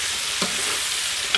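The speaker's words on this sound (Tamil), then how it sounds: "இந்த வெங்காயம் தக்காளி கூட இந்த எண்ணெயிலே கொஞ்சம் நல்லா வதக்கி விட்டுக்கிறணும்" Onion, tomato and vegetables sautéing in oil for sambar, a steady soft sizzle with a couple of brief scraping stirs, close and alone.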